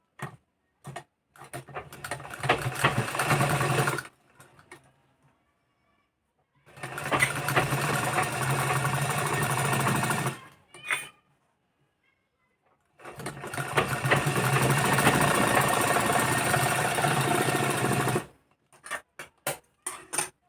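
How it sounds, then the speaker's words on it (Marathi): A sewing machine stitches blouse fabric in three long runs of rapid, steady mechanical whirring, close and fairly loud, separated by silent pauses and a few short clicking bursts. "त्यासाठी आपल्याला मधोमध शिलाई मारून घ्यायची आहे"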